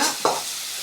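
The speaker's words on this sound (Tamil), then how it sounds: "வெங்காயம் தக்காளியும் நல்லா டீப் ஃப்ரை பண்ணிக்கோங்க, நல்லா வதங்க விடுங்க" Onions and tomatoes fry in hot oil in a pan, a brief bright sizzle with a short stir scrape, heard alone and close.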